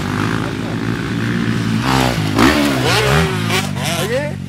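A motocross bike with a 250 four-stroke engine in third gear revs hard and accelerates over a jump, the engine note climbing and falling close by, with someone talking over it.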